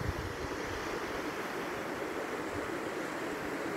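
A strong mountain creek rushes in the Rocky Mountains, making a dense, steady roar of turbulent water that stays constant and fairly loud throughout, with no voices.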